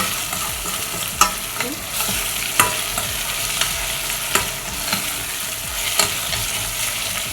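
Egyptian rice, three cups, washed, being stirred and fried in a pan, with continuous sizzling broken by regular scraping strokes of the spoon roughly every second, close and clear with no talk.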